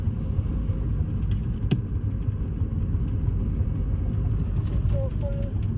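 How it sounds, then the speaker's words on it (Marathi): A car cruising on the Uran highway (JNPT road) in light traffic, its steady low road rumble and engine drone heard from inside the cabin, with a faint tonal whine near the end. "देखील गाडी स्टार्ट केली आहे. जर्नी स्टार्ट केली आहे."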